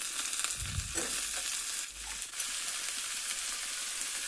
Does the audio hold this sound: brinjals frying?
yes